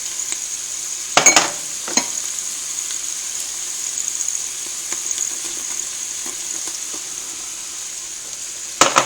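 Onions and garlic sauté in a pot for zuppa toscana as flour goes in, a soft steady sizzle broken by a few sharp utensil scrapes and clatters near the start and again at the end.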